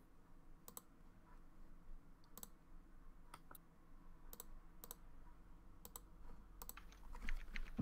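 Fingers type on a computer keyboard in quick irregular bursts of crisp clicks, faint and close, with soft room noise underneath and no speech.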